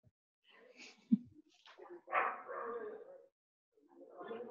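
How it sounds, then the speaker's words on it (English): A dog gives faint, distant barks and whimpering yips in a scattered sequence with quiet gaps, heard at low level behind an otherwise silent room. "I think that's his dog."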